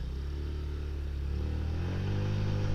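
Motorcycle running a nanotech performance engine treatment, taking off at full throttle with a low, rising engine drone that grows steadily louder and deeper over a few seconds, close and alone.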